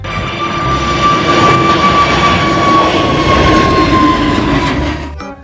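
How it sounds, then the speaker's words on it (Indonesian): A toy airplane gives off a steady mechanical whirring drone with a sustained tone, loud and close, running alone for about five seconds before cutting off. "Pesawat terbang."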